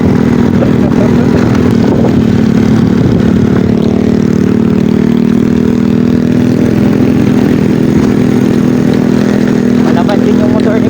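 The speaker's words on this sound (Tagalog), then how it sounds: "Malakas din yung motor ni Boss Jomar, oh." A loud, steady motorcycle engine drones nearby, a constant low rumble that never lets up for the whole stretch.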